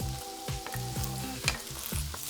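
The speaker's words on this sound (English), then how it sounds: "Let's add that egg. Cook it for about 30 seconds, scramble it" An egg sizzles in a hot pan for fried rice while a utensil scrapes and scrambles it in repeated strokes, the rhythmic stirring clear over a steady crackling fry.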